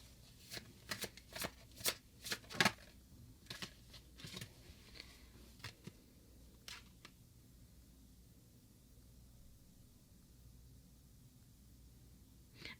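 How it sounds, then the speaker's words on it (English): Oracle cards are riffled and shuffled in quick crisp bursts during a tarot reading, close and soft, thinning out into near silence after about seven seconds. "I'm gonna pull one more oracle card for you guys"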